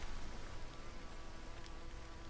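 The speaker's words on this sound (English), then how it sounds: "there's a snake there, there's bees over there, so we don't want to be dealing with them" Bees in the Green Hell jungle survival game give a soft steady buzzing drone, faint and continuous over a hissy ambient background.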